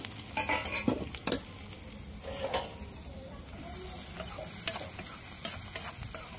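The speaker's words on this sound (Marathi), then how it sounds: "आता कांदा जो कापला होता ना आपण बारीक बारीक ते टाकून घेऊ आणि मस्त परतून घेऊ" Finely chopped onions sautéing in hot oil, with a steady background sizzle broken by sharp scrapes and clinks of a spoon stirring the pan, close and fairly loud.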